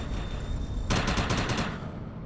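Rapid automatic gunfire in the video game Defiance, a dense burst of about a second in the middle of the clip over steady game background noise.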